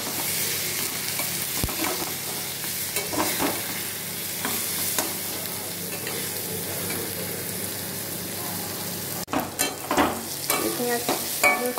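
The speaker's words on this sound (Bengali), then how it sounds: "রসুনটা ভাজা ভাজা হয়ে গেছে" Garlic with Kashmiri chilli powder sizzles in hot oil while being stirred, a loud continuous crackling hiss with scraping strokes that grow sharper and more uneven near the end.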